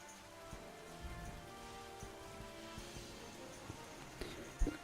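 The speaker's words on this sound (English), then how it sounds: "Oh good, it started raining." Steady rain falling in the Pokemon Violet video game, a soft continuous patter with a few louder drops near the end, heard alone.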